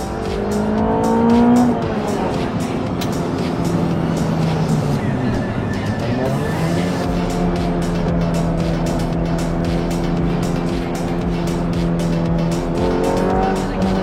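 Stock road cars race hard around a circuit, engines roaring loud and continuous with rising and falling revs through gear changes and tire squeal in the corners, a voice talking faintly beneath the din.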